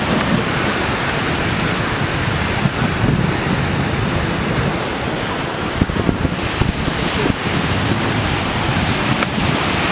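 Beach surf in Girona, Spain, a continuous loud wash of breaking waves blended with heavy wind buffeting the microphone, with a few brief knocks and rustles and no talking.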